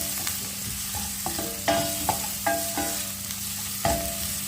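Onion and garlic sizzle steadily in hot oil for pancit bihon with corned beef, under a constant frying hiss. A utensil scrapes and clacks against the pan several times as the mixture is stirred.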